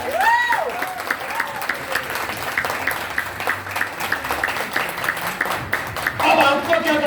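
A seminar audience in a Radisson Blu hotel hall claps for a network-marketing speaker. The applause is steady and close, and the speaker's amplified voice runs over it at the start and again at the end.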